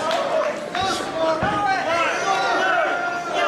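An indoor wrestling crowd chants and shouts at an independent show, a steady, loud murmur of many voices with a commentator speaking over it throughout.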